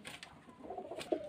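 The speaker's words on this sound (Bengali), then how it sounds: "পায়রাগুলো সেলের জন্য দেখায়।" Pigeons kept for sale at a village home, soft low coos and faint rustling, fairly quiet and nearby, with no talk.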